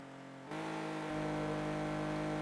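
Porsche engine in Need for Speed Porsche Unleashed racing at Monte Carlo: a steady buzzing drone with strong harmonic tones that steps up in pitch and volume twice as the car accelerates, continuous and fairly close.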